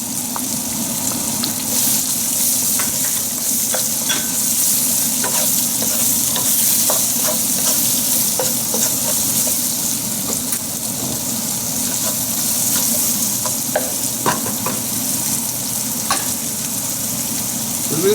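Onions sizzle steadily in hot mustard oil for an Indian chicken curry, a dense continuous frying hiss with scattered stirring clicks and scrapes throughout, close and fairly loud.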